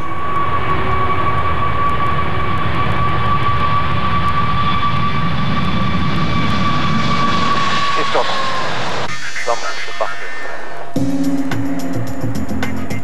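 An Airbus A380 airliner on a test takeoff run roars loudly with a steady high engine whine for about eight seconds, then the sound drops away abruptly and other mechanical noise follows.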